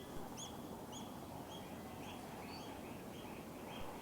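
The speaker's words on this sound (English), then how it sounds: "the birds are just chirping away" Birds in a Zambian bush camp at South Luangwa, near elephants, give repeated short chirping calls at a steady rhythm over a constant broadband background hiss, moderately close and clear.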